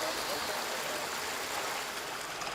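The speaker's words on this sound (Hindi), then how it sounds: "नहरों में पानी लगातार बहता रहता है" Water flowing steadily through the canals of a trout farm, a continuous broad rushing wash like a stream, even and moderately loud throughout with no pauses.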